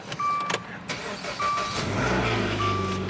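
A car engine with the check engine light on cranks and catches, then settles into a steady low idle, close by, with some clicks and clatter at the start.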